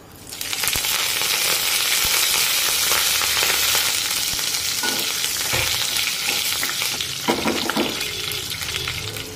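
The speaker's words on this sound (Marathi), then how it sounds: "आता तेल हलकसं गरम झालं की गॅसची फ्लेम कमी करूया आणि त्यामध्ये अर्धा चमचा जिरे टाकूया। जिरे छान फुलले पाहिजेत।" Cumin seeds and curry leaves hit hot oil in a pan over a lowered gas flame, setting off a loud, dense sizzle that crackles steadily throughout, with occasional stirring clinks as it slowly eases.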